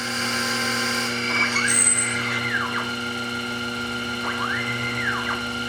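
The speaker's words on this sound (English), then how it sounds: "So I'm going to drill this out." A drill bores into a graphite work piston for a Stirling engine helicopter build, its motor whining steadily while the pitch sweeps up and down twice as the bit cuts, close and fairly loud.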